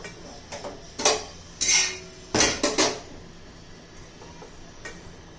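A knife cuts through a cheese bread omelette sandwich on a plate, giving a few irregular taps, scrapes and clinks of blade against the plate, close by with short pauses between them.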